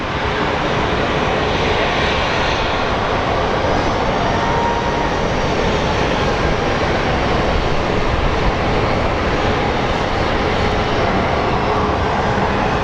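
A Southwest airliner taxiing into a gate at Phoenix Sky Harbor, its engines giving a continuous, even whine and rumble at moderate distance, with no talk over it.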